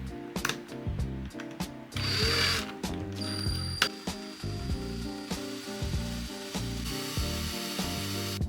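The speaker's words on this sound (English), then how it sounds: "I'm just going to drill holes and screw in a tiny screw" A small handheld drill bores holes into polymer clay charms, whirring and ratcheting in short uneven bursts. Brief pauses and clicks break up the bursts, close up and fairly quiet, with no talking.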